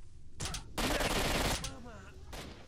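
Rapid gunfire bursts from the shooter game S.T.A.L.K.E.R. Shadow of Chernobyl, a dense loud volley in the middle with shorter shots before and after, a voice talking lightly underneath.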